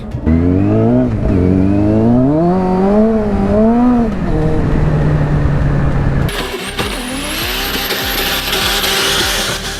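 A motorcycle engine revs up and down through several rising and falling pulls, loud and close, then gives way to rougher broadband road and wind noise for the last few seconds, with no talking.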